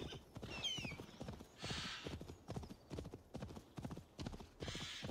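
Rapid horse hoofbeats clop in a quick rhythm amid Assassin's Creed Valhalla game sounds, with a brief whinny near the start and bursts of noise in between.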